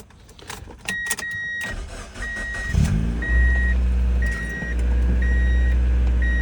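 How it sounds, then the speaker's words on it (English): Mazda MSM engine cold-starting in very cold weather: a few close clicks and key jangles, then the starter cranks and the engine catches and settles into a loud, steady idle with a faint repeating chime. "And there it is, a cold start."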